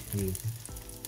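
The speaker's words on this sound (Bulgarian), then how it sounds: "Не трябва много да движите рибата, докато не се запече, защото кожата ще остане на тигана" Sea bass fillets frying skin-side down in a hot pan, a steady close sizzle with faint crackles and a few low clunks of tongs or pan handling.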